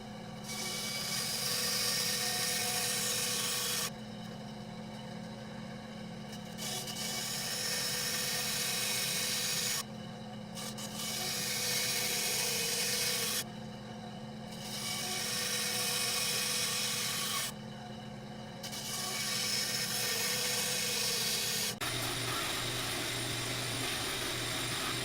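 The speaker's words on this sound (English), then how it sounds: "I just need to take this to my bandsaw, cut off the corners, and sand it down" A bandsaw cutting the corners off a plywood clamp, then sanding it smooth: loud, steady machine whine in several long bursts separated by short pauses, ending in a rougher, broadband grinding stretch, with no talking.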